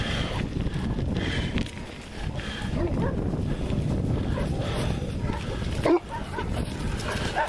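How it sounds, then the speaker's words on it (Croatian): Puppies at a stable yip and whimper outdoors amid wind noise on the microphone, with intermittent close barks and soft whines, and a sharp bump near the end. "Ovo su štenci, ne boj se."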